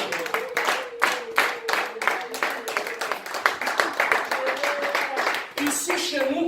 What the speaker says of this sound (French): Est-ce que tu peux donner une main d'acclamation?